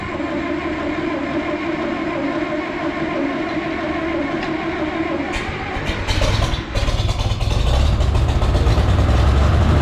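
A heavy tractor engine rumbles steadily and close by, its low drone thickening and growing louder toward the end as it revs up.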